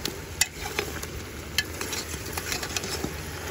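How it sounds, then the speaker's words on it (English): Meat fries in a pot with cassreep, garlic, salt and hot peppers for Guyanese pepper pot, giving a steady close sizzle broken by scraping and stirring clinks from a utensil. "So this frying, this meat frying, you don't want to over fry because the cassreep could burn."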